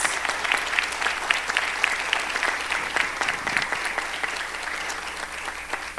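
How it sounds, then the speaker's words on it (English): A conference audience applauds its guests, a dense sustained clapping from many hands that fills the room and eases slightly toward the end. "I would love everyone to give a round of applause again for our guests"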